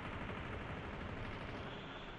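Dense, continuous gunfire from Call of Duty Mobile on a foggy map in a duos-versus-squad match, a steady unbroken roar of rapid shots at loud, even volume throughout, with no voices.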